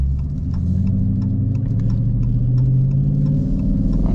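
A Dodge Charger R/T engine drones loud and close from inside the car while driving on a cold 40-degree day, a steady low throbbing rumble that swells slightly as revs climb, with no talking.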